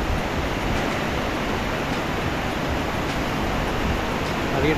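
Diyaluma waterfall in Sri Lanka, rushing water heard as a dense, constant roar of white noise filling the scene without a break.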